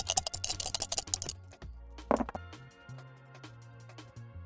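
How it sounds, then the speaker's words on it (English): Dice for a tabletop RPG clatter and rattle across a hard surface in quick bursts of clicks, close and fairly loud, then a few lighter taps as they settle, with no talk. "I'm gonna roll my bonus dice"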